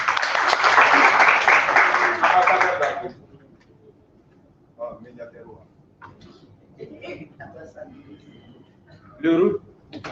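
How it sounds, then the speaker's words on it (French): Assembly audience at an elective general meeting claps loudly for about three seconds, then the applause cuts off and scattered voices and murmurs follow, with a brief burst of sound near the end. "Applaudissez."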